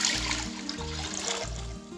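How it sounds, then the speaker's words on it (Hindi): Water pours into a pot on a lit stove for boiling rice, a steady trickling splash that runs throughout at moderate loudness, with low rumbling underneath. "इसमें 2 लीटर पानी ऐड करूँगी, जिसमें कि चावल अच्छे से बॉयल हो जाए।"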